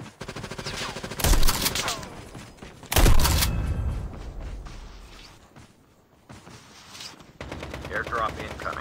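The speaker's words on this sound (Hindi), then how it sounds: "गाइस शॉटगन का टाइम आ गया" Loud shotgun blasts in the Call of Duty video game: two heavy booming shots about two seconds apart, each followed by a ringing decay, then quieter game ambience.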